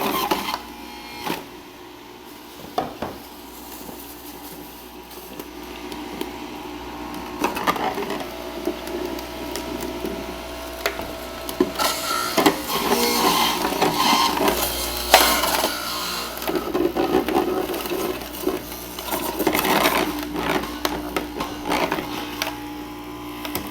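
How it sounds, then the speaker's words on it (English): A juicer grinds kale pressed gently into its wide feed chute, a steady mechanical whir and crunch that grows louder and rougher in the second half, with no talking. "I'm just barely pushing down on the machine. I've got my kale."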